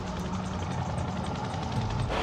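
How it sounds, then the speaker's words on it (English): A rescue helicopter flies overhead during a missing-person search at Bondi Beach, its steady rotor and engine drone loud and continuous throughout the short clip. "Got the chopper inbound. You can just see it over my shoulder here."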